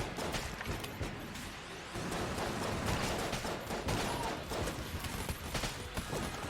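Dense, rapid gunfire from the video game Enter the Gungeon crackles continuously over a busy mix of game sounds, with no pause across the stretch.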